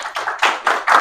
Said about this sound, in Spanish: vamos a darle un aplauso a la doctora